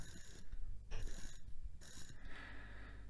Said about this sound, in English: you may hear that very loud movement